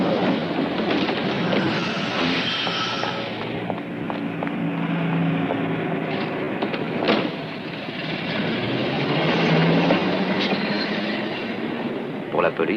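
A tram rolls along its rails with a steady loud rumble and rattle, a few sharp metallic clacks and a low squeal, heard close from on board.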